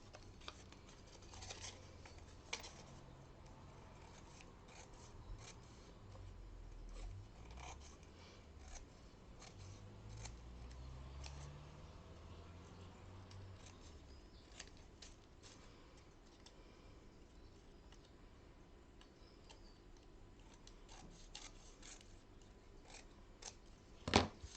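Scissors snip and trim around a security envelope, a run of soft, close paper cuts and rustles with a sharper clack near the end.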